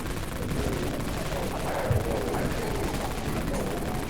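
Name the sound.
machine gun fire in Dead Frontier video game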